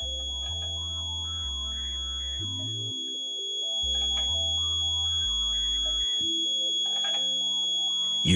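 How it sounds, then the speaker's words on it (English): Satellite dish alignment meter tone during KA-SAT 9 East dish setup: a continuous electronic beep that drops and shifts pitch in steps as the dish is turned, steady and close, with a faint high whine behind it and no talk. "When you hear the tone drop, change direction."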